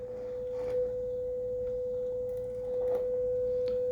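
Steady test tone played through a Kenwood GE-52B 10-band stereo graphic equalizer with the 500 Hz bands boosted, a constant pure pitch holding evenly for several seconds over faint background noise.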